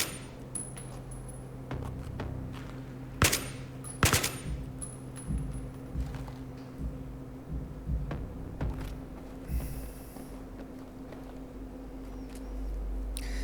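The player's gun firing in the Battlefield 3 mission Operation Swordbreaker, scattered sharp shots with two louder cracks among steady game rumble and hum, moderately close.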